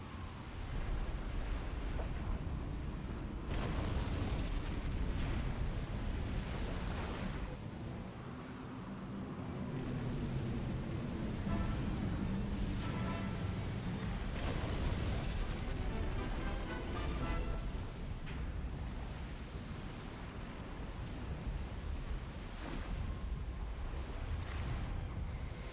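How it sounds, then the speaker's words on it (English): In the submarine game Silent Hunter 4, a damaged ship goes under amid a continuous wash of ocean waves and wind, rolling surges rising and falling steadily. "And there she goes, sinking beneath the waves."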